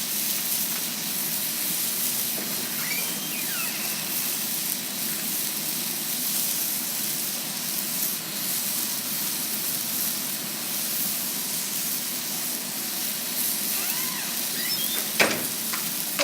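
Chicken sizzles steadily on an outdoor cooking surface, a continuous close, even hiss of frying that runs unbroken with only a few faint clinks on top.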